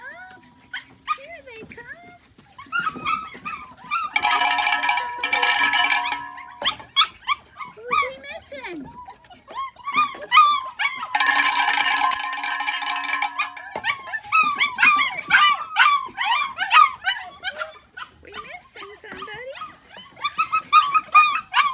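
Puppies about 6.5 weeks old whimper, yip and bark in a lively chorus, with high squeals and short barks overlapping, while people talk nearby.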